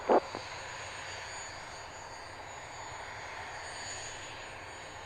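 An aircraft engine drones steadily at takeoff power, a constant mid-distance roar with brief radio clicks at the start and end.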